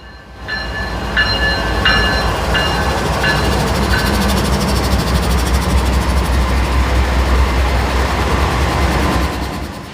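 A Norfolk Southern freight train hauled by ET44AC and AC44C6M diesel locomotives roars past at close range, its horn sounding in several short blasts at the start before a long, steady rumble of engines and rolling wagons.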